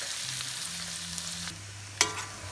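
Garlic and onion frying in a pan for garlic buttered shrimp, a close, steady hiss of hot oil with a low hum underneath and one bright clink of a utensil near the end.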